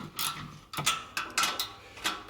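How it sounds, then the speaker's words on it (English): A ratchet fitted with an 8mm socket loosens nuts on an exhaust kit, producing close, rapid mechanical clicking in short repeated bursts. "we're going to take a ratchet, or 8mm socket, and we're going to start removing the nuts"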